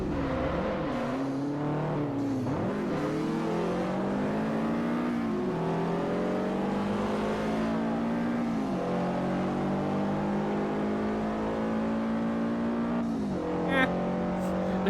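Subaru racing in Forza Motorsport 4 on a JDM sports car challenge, its engine revving hard and climbing through gears with repeated shifts, a steady loud drone throughout and a brief burst near the end.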